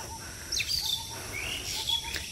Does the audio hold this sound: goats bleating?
no